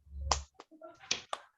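A classroom of students performs a 'tepuk hebat' patterned clap, a few sharp separate claps and slaps spaced irregularly, with faint voices between the beats.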